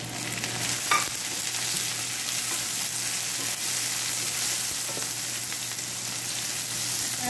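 Tomatoes go into okra stir-frying in a pan, producing a continuous dense sizzle with a few faint utensil knocks, steady and close, without talk.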